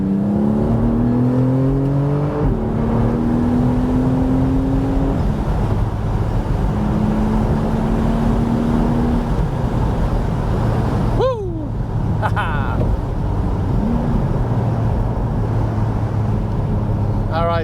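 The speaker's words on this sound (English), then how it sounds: "you can hear the induction or lack of the induction as we drive now on this nice road here" Porsche 718 Spyder with its exhaust bypass open cruises along a road, a steady engine drone with rising and falling tones as it shifts, a brief sharp swoop near the end, speech faintly underneath.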